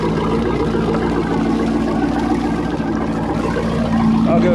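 A 1991 Malibu Competition ski boat with a new Chevy 5.7L 350 V8 idles steadily, a loud, even, low rumble with a constant hum and no revving throughout.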